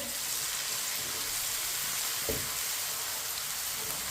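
Crushed ginger and garlic frying in a pan with a steady, rain-like sizzle throughout and a single soft knock midway, close and moderately quiet.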